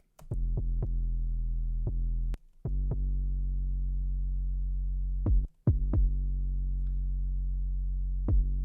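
A deep sustained bass tone pumps in volume through sidechain compression, dipping briefly each time a punchy kick drum hits, with gaps and sparse isolated thumps.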